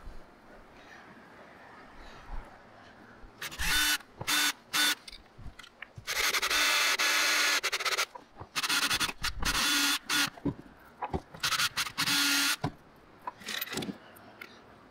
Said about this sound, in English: I'm gonna go ahead and drill the hole to mount my antenna mast on.